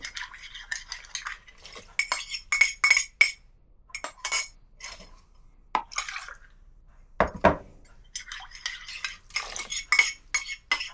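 A small container used for yeast while baking zopf is rinsed with water, giving irregular close splashes, swishes and light clinks against the vessel, with no talking.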